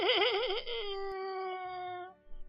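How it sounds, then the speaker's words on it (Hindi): A cartoon boy wails loudly in a long sobbing cry with a wavering, quivering pitch that steadies into a sustained high moan, then trails off, with a few soft knocks after it. "वो जोर जोर से रोने लगा"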